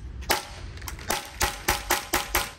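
Gas airsoft pistol fired in a rapid series of about six sharp, loud pops, the last five coming close together at a steady pace, with no talking between shots.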